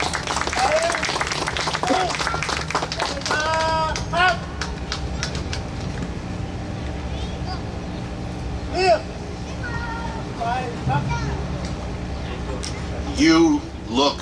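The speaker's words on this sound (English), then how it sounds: "A round of applause for our heroes." A community audience honoring veterans claps and calls out, with spirited applause mixed with high voices, cheers and chatter throughout, rising in short bursts over a steady crowd murmur.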